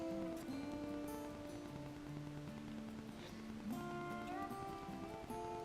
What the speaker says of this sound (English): I don't know how it is raining like this right now.